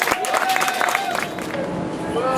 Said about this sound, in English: Let's give the honorees a round of applause